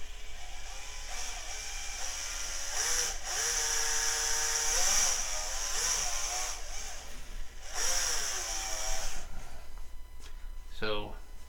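A small drill with a thin bit whirs in several bursts, its pitch rising and falling as it spins up and slows, with a higher squeal near the end.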